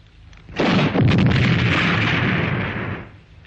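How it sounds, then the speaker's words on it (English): A single loud bazooka blast in a film, opening with a sudden boom that roars on for about two seconds before fading out, heard alone. "A bazooka."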